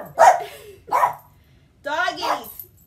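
Pet dogs bark indoors, two sharp barks and then a longer, drawn-out bark, close and fairly loud.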